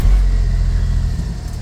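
A CFMOTO U10 Pro Highland UTV (2026) engine running just after a cold start in freezing weather, a loud, close, low rumbling idle that holds steady and eases slightly, with no talk.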